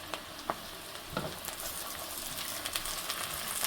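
Onions and bay leaves frying in hot oil for a fish curry, giving a steady, moderately quiet sizzle with a few light clicks and stirring scrapes.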